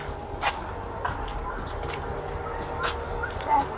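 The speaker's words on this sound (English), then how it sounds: "I can hear you better because the dogs are kind of barking." A few scattered dog barks and yips, some sharp and close, others fainter, mixed with background noise.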